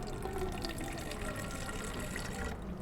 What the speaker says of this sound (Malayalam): നമുക്കിനി സ്പ്രെയറിനകത്തോട്ട് ഒഴിക്കാം.